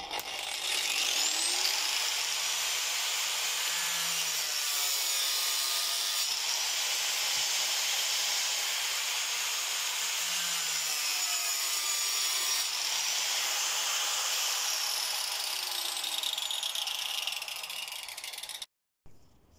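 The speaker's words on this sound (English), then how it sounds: "I'm just going to crop an inch off each one." Hand sawing through pond sieve tray supports, a rhythmic back-and-forth rasp of long even strokes repeating steadily and close up, ending abruptly.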